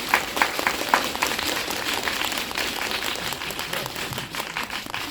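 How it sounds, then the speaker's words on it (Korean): Audience applause at a community film festival event, loud dense clapping with a few sharper claps at the start, continuing evenly for several seconds. "박수 한번 해주시죠"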